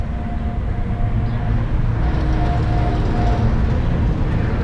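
A Bizon combine harvester rolls past outdoors, a steady loud diesel rumble and mechanical clatter holding constant throughout with no voices.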